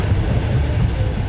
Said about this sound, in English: I am in the train now